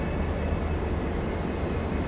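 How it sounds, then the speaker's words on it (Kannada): Steady, loud low rumble of a diesel locomotive engine hauling the Nizamuddin–Hubballi weekly superfast express, a continuous droning hum with a faint high whine above it, close by and unbroken. "ಇಲ್ಲೇ ಡೀಸೆಲ್ ಇಂಜಿನ್ ಸೌಂಡ್ ಬರತೈತಿ"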